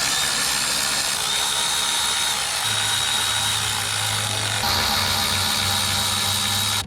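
A power tool whirs steadily and loudly while throttle body bolts are tightened on a 2006-2010 Ford Explorer with a plastic intake manifold. The whir runs the whole time and its pitch shifts midway, with no talking.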